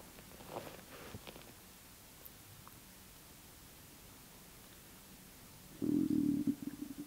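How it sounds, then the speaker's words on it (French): A stomach gurgles in a quiet room at a burned house, a short, loud rumbling burst near the end after several seconds of faint hiss and soft rustling. "C'est mon ventre qui a gargouillé."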